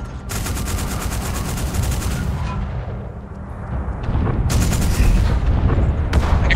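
Naval guns fire during a video game sea battle, a dense, continuous barrage of booming shots with sharp bursts near the start, around four and a half seconds and near the end, loud and with no talk over it.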